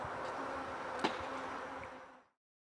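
Steady, dense buzzing of many honey bees around beehives in a bee yard, a continuous close hum with one brief louder pass, fading out at the end.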